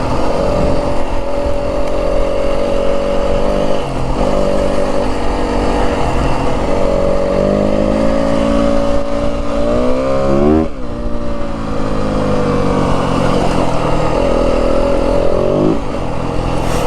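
A 2025 Yamaha WR250F dirt bike engine revs loudly and steadily while riding through the Santa Rita mountains of southern Arizona, its buzzing note holding high with brief dips and climbs in pitch throughout.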